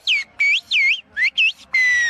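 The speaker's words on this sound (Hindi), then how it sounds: "दूर खड़े किसी शख्स से मुखातिब होने के लिए ये लोग सीटी की जुबान इस्तेमाल करते हैं।" Villagers in Kuşköy, Turkey, trading calls in their traditional whistled language: a run of loud, clear, high whistles in short swooping phrases with brief gaps, ending in one longer held tone, with no speech.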